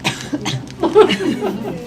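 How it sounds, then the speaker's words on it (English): People cough from seeds while eating a meal of bean-starch vermicelli noodles, giving short close coughs and chuckling sounds mixed with voices and table noise. "Little things like you're all coughing because of the seeds."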